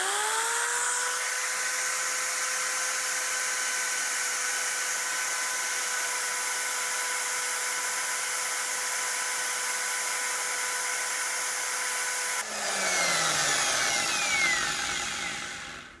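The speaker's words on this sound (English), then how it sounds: "I've got my drill wire wheel on the vise" A steady high-pitched whine of a drill spinning a vise-held wire wheel cleaning motorcycle spoke nipple threads on a BMW R80 runs continuously, then shifts to a rougher, scratchier grinding near the end.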